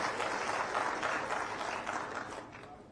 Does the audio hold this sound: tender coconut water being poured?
no